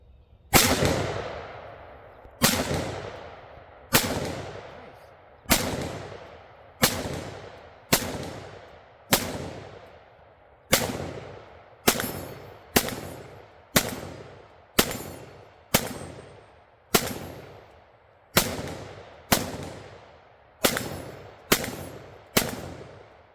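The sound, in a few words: shooting Palmetto State Armory Freedom AR rifle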